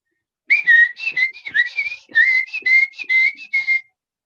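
A person whistles a lively, warbling imitation of robin birdsong, a series of short rising and falling chirps in quick succession, clear and close.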